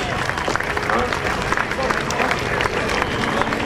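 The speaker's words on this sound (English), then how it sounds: "Let's give them another nice round of applause for jumping in these high winds." Airshow crowd at an Air Force base open house applauds a parachute team after jumps in high winds, a broad wash of distant clapping mixed with crowd murmur and wind-like noise.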